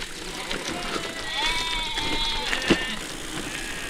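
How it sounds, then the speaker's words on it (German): Sheep bleating on a farm, a few wavering calls rising over steady outdoor background noise, moderately close. "Die Schafe im Zaum halten."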